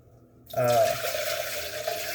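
Filtered water runs steadily from a tap into a pot or container for making chicken stock, a continuous rushing and splashing flow that starts abruptly and stays fairly loud.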